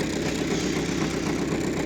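An MTZ-80 tractor's diesel engine runs steadily, a continuous rough mid-low drone heard from inside or close to the machine, with no voices over it.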